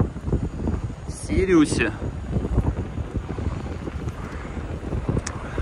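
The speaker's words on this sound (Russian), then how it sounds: "Ветер дует в лицо" Strong wind buffets the microphone in continuous low rumbling gusts while riding along the seafront near Adler port, with a voice speaking briefly over it.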